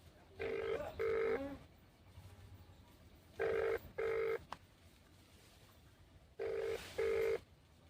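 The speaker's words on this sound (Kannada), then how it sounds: "ರಿಂಗ್ ಆಗತೈತ್ರಿ" A phone call rings out in three spaced pairs of steady electronic ring tones, each pair about two seconds long and clearly loud over quiet room noise, with no talking in between.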